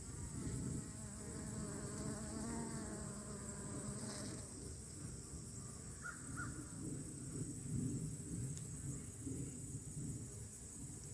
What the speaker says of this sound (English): You can probably hear the bees buzzing.